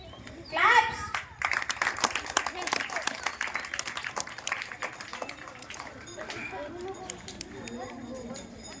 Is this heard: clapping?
yes